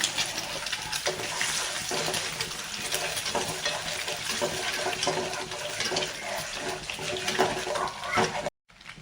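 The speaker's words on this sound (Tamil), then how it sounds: "ஆயில் ஹீட் ஆயிடுச்சு நான் மூணு சப்பாத்திக்கு ஒரு முட்டை எடுத்திருக்கேன்" An egg fries in heated oil for leftover chapati noodles, giving a continuous close, bubbling crackle that holds steady before cutting out abruptly near the end.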